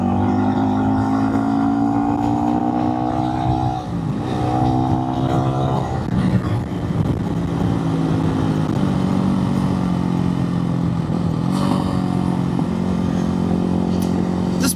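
An RPS 300 cross country motorcycle runs steadily and loudly close by for the whole stretch, its engine drone rising and falling in pitch as the rider works the throttle, with some clatter and no talking.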